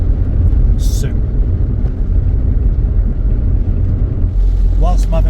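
A Rover 418SLD diesel car drives along, its steady low engine drone and road rumble filling the cabin loudly and continuously, with someone talking over it.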